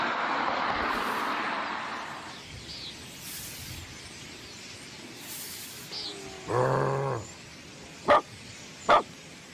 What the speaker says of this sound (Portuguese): Sai daqui, cachorro!